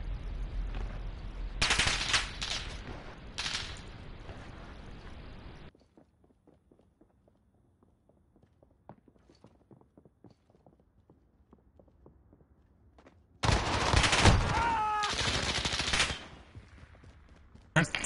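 Bursts of MP5 gunfire in the game Rust, loud rapid volleys at the start and again near the end, separated by a quieter stretch of light ticking footsteps.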